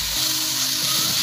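Finely chopped capsicum and other vegetables sautéing in a pan for a chicken fajita pasta, giving a steady, close sizzle and hiss with no one talking.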